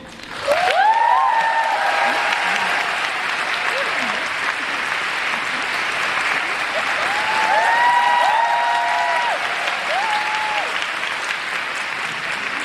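A theatre audience applauds the cast at a musical's curtain call, steady loud clapping throughout with cheers rising over it.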